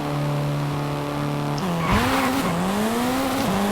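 A Mitsubishi Evo 8 with a drag tune launches in Forza Horizon 5. The engine holds a steady high rev, then tires squeal loudly as the car pulls away and the pitch climbs through a gear change.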